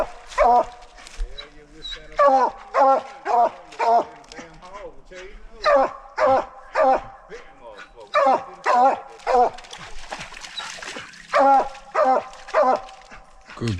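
Coon hound barking at a raccoon treed during a night coon hunt, a steady run of loud, close, evenly spaced barks with yips and whines mixed in, and someone talking intermittently beneath.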